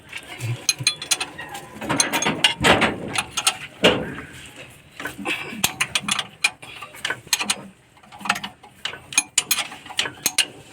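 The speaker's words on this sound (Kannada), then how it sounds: "ಈಗ ಬಿಚ್ಚಿನಿ ಎಲ್ಲ ಬೋಲ್ಟ್ ಗಿಲ್ಟು." A ratchet wrench unfastens the bolts holding a vehicle starter motor, clicking in short ratcheting runs between pauses with metallic knocks and clatter close by.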